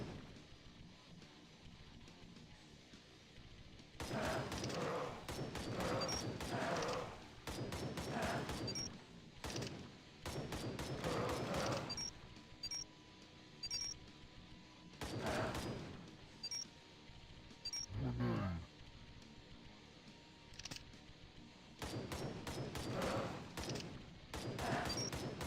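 Rapid bursts of video game gunfire from Arcade Paradise, clustered volleys of crisp shots separated by short quiet gaps, with one deeper boom midway, fairly faint overall and no talk.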